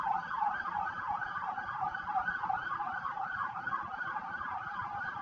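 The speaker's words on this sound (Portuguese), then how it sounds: "A sirene está passando." A wailing siren cycles steadily up and down, loud and continuous, with faint traffic rumble beneath.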